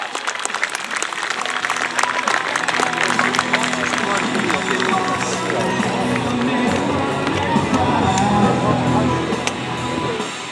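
Spectators at the 2015 New York Airshow applaud for the US Navy F/A-18F Super Hornet demo, a sustained, dense patter of clapping from a large outdoor crowd, with voices speaking over it.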